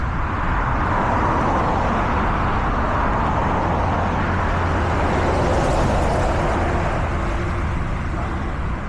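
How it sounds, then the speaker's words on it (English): Heavy trucks and other traffic passing on a road on a September commute into Leicester from Syston, a steady broadband roar with no clear gaps, swelling slightly as one vehicle goes by near the middle. "I always think these trucks that go by us on this road sound like TIE fighters from Star Wars."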